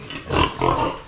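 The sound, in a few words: piglets oinking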